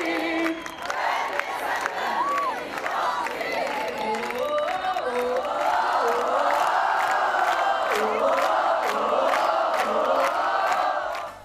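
A crowd at a pop concert cheers, shouts and applauds steadily for the whole stretch, a dense roar of many voices with rising whoops and clapping, loud and continuous.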